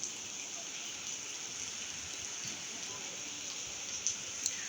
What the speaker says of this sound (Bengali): এত বৃষ্টি হচ্ছে বাইরে